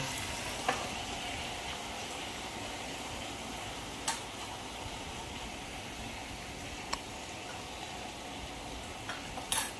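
Pigeon pea and brinjal curry sizzling in a pan after tempering with mustard seeds, cumin, chilli and spices, a continuous steady fry with a few sharp utensil clicks, no talk.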